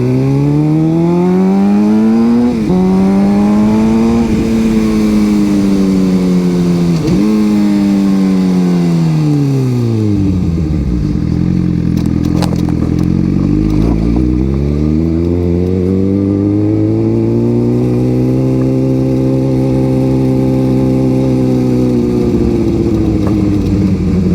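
A loud 2008 Suzuki GSX-R750 engine revs up repeatedly, pitch climbing then dropping with each gear change, continuous and close, no talking.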